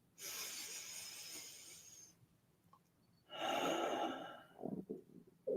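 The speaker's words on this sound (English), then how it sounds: "We're going to take 3 deep breaths, relaxing on the exhale" Slow, deep breaths during a guided meditation, two long airy exhales separated by a quiet pause, close and soft, followed by a few shorter breathy sounds.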